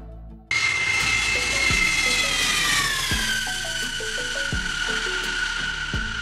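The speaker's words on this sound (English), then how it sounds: "Lockheed C5 Million Super Galaxy." Jet engines of a Lockheed C-5 Super Galaxy military transport aircraft, a loud steady whine that starts abruptly and holds with a high descending tone over a rumbling roar, close and continuous with no talk.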